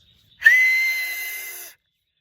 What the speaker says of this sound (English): I'm learning to whistle